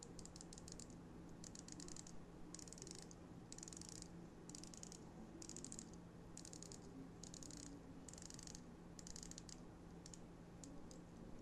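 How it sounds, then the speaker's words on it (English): The rotating bezel on a Seiko SNZH57 watch gives crisp, bright clicks in quick bursts, turned in short repeated runs with brief pauses between them, close up and quiet, with no voices. "Let me give you guys an example of what the bezel action sounds like."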